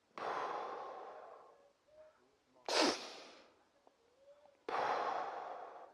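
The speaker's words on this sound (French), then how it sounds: "vous pouvez inspirer profondément, expirer profondément, inspirer rapidement, expirer profondément" Deep breathing exercise: long, slow exhalations alternate with a quick, sharp inhalation, each breath close and airy, with quiet pauses between and no talk.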